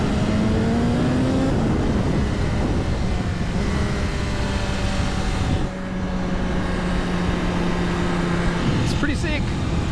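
A 2025 BMW S1000RR M Sport motorcycle revving hard on a road ride, its engine note rising and falling loudly up close, while a rider talks over the wind and exhaust.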